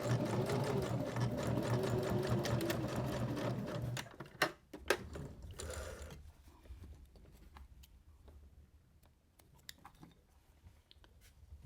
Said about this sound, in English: I'm going to just cross that stitching a little bit and back stitch to lock it all in place.